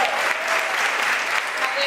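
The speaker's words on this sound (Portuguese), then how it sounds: "Palmas para essas guerreiras." An audience at a church youth retreat claps in dense, steady applause, a loud continuous patter of many hands filling the room, with voices faintly underneath.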